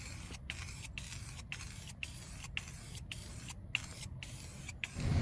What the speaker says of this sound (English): as this sprays, it mixes both the catalyst and the primer itself